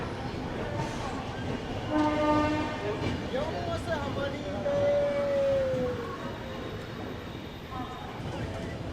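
Mithila Express pulling out of Bardhaman station, its horn sounding in a couple of tonal blasts over the continuous rumble of the moving train, close and fairly loud.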